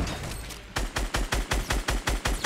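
Gunfire in Fortnite Battle Royale: a loud, rapid string of about eight evenly spaced shots follows a brief stretch of noisy background, with no talking.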